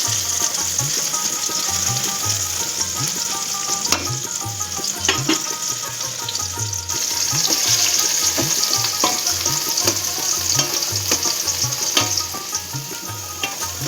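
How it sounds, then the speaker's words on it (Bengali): Food frying in a pan until browned, a loud, dense sizzle of hot oil with rhythmic stirring and scraping strokes throughout, close up and without speech. "বাদামি হয়ে যাওয়া অবধি এটাকে ভালো করে ভেজে নেব।"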